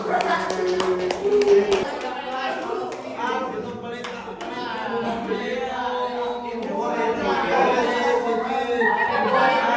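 A brief patter of classroom clapping at a peer-teaching lesson, a few hands at close range in the opening seconds, then the clapping fades under ongoing talk and chatter from students and the teacher.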